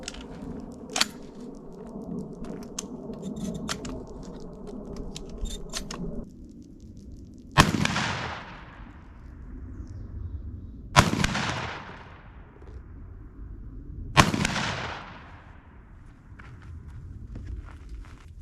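A Mossberg 930 SPX semi-automatic shotgun fires slugs at a 50-yard target outdoors, three loud, sharp blasts spaced a few seconds apart with echoing tails, after quieter handling clicks and rustling.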